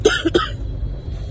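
A quick burst of two or three harsh coughs close up, followed by quiet background hum.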